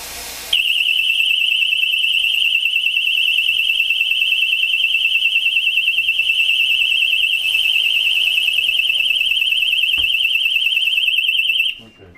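An office alarm shrieks continuously at one piercing pitch during a smoke screen demonstration, loud and unbroken for about eleven seconds before cutting off abruptly.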